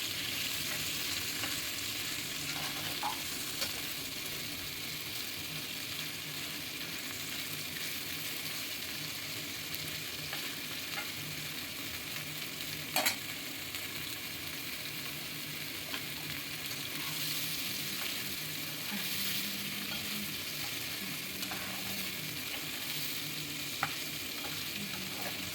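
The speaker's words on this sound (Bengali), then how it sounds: "পনিরগুলোকে একটু হালকা করে ভেজে নেবো, তো লাল করে কিন্তু ভাজবো না।" Paneer fries lightly in oil in a pan, giving a steady, faint sizzle throughout, with occasional soft clicks of stirring and no one talking.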